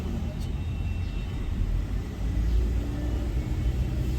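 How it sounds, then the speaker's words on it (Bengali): A car engine held at a steady rev between 2300 and 2700 rpm during a pollution emissions test, producing a continuous low rumble that swells slightly partway through. "আমি রেস দিচ্ছি। 2300 থেকে 2700-র মধ্যে।"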